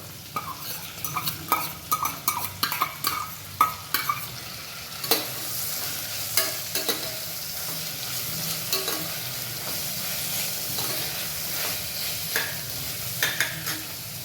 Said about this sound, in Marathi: तोंडली 2 मिनिटं परतल्यानंतर आपण हे तांदूळ त्यात हलक्या हाताने परतून घेतो।